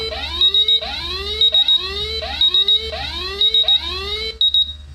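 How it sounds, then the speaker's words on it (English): Loud electronic alarms from MultiRAE and G7C gas detectors repeat in a fast, steady pattern of rising warbling tones, about five cycles, with no voices. "Both of those went into alarm right about the same time."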